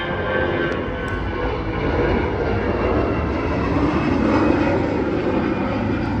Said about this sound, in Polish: Zobaczcie, znowu samolot.